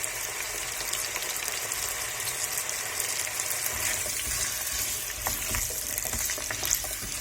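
Potatoes and carrots frying in hot oil in a pan, a steady close sizzle with bursts of crackle and faint stirring noises, no talking over it.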